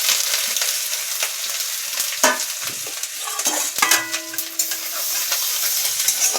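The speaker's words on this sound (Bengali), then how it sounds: "অল্প আদা গ্রেট করে রেখেছিলাম এই আদাটা তেলের ওপর দিয়ে দিলাম" Grated ginger sizzles steadily in hot oil in a pan with tempering spices, cooking for a raw-banana kofta curry; a bright, continuous frying hiss with a few sharper crackles and spoon scrapes, close and fairly loud, no talking.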